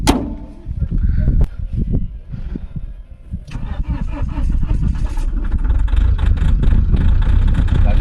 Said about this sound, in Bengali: সাউন্ড দেখেছো, ট্র্যাক্টরের মতো আসছে ঠান্ডার জন্য।